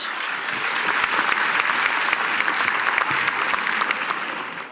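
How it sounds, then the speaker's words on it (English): Steady, dense applause from a large audience at an international conference award ceremony, continuous and loud throughout without any talk. "A big round of applause, everyone."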